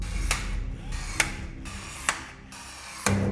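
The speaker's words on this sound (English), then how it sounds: "Let's grab our rivet gun and rivets." A hand rivet gun sets aluminum rivets inside a shipping container build, with four sharp, evenly spaced pops, each followed by a ratcheting mechanical squeeze, close and clear with no talking.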